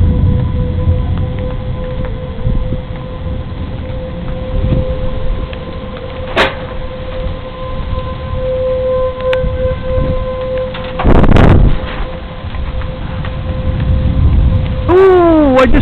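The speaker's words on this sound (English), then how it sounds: "There go the sirens again." A distant wailing siren drones steadily under heavy thunderstorm rain, wind and rumble, with a sharp crack and a rising tone near the end.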